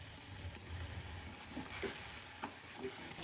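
Cinnamon, cloves, cardamom and sliced garlic frying in a little oil in a pan, a soft steady sizzle with occasional stirring scrapes, fairly quiet and close, no voices.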